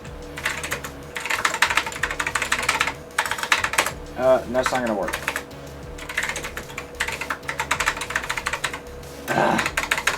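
Typing on the keyboard of an OS/2 Warp 3 PC used as an IBM mainframe terminal, with bursts of quick key clicks running through most of the stretch and a person speaking briefly over them.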